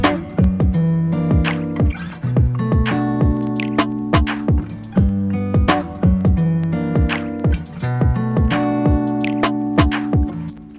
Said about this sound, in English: And with the guitar, it sounds like this.